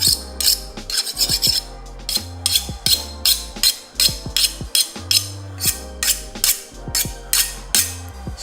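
A file rasps across hardened rebar knife steel in a string of quick, even back-and-forth strokes, close and fairly loud, with a thin skating sound as it glides over the surface.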